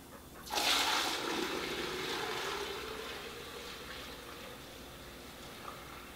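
A steady rush of kombucha pouring through a nylon strainer into a gallon pitcher from about half a second in, strong at first then gradually easing off, continuous and fairly close, with no talking.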